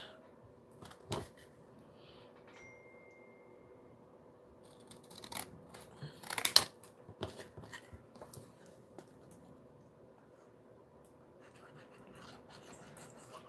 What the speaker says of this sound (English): I'm going to cut it this way just because I want to see what that would look like.